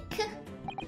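A head waiter character in Great Ace Attorney Chronicles, sick and coughing up blood, gives a short, raspy cough burst up close, with a few quick follow-up catches of breath.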